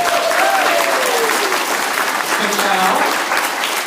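Loud audience applause fills a public library room after a storytelling performance, a dense steady wash of clapping lasting throughout while a voice speaks briefly over it.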